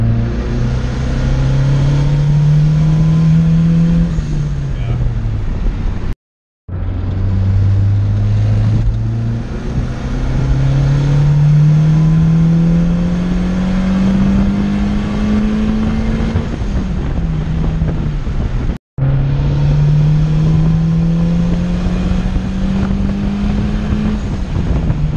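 A turbocharged Honda Civic with a D16Z6 engine pulls hard, its loud droning note climbing steadily through long runs, with two short dropouts between pulls and wind buffeting throughout.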